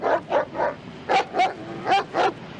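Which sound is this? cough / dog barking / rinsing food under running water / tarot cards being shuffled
dog barking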